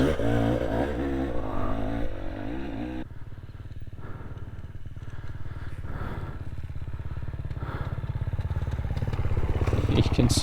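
An enduro motorcycle rides through steep, rocky off-road terrain, its engine droning steadily and rising under throttle, with clattering from the rough ground and a skid as the rear brake locks. The bike is close and loud throughout.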